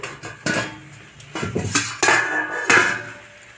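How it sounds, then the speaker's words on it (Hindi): A large metal pot lifted off a wok on a gas stove after steaming malai cake, giving several close clanks and scrapes of metal cookware in quick succession, with no voices. "अब मैं बर्तन को खोल दूंगी"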